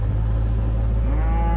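Fall-calving shorthorn-cross cows, a short bred herd in good shape, low mooing over a steady low rumble, fairly close and continuous.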